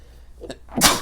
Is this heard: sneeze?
yes